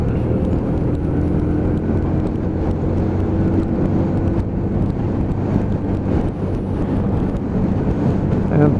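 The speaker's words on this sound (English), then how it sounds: "Get myself a little bit of slipstream going down the dual carriageway." A Lexmoto ZSB motorcycle cruising in fifth gear along a dual carriageway, tucked behind a lorry, gives a steady, loud engine and road drone with heavy wind buffeting throughout and no break.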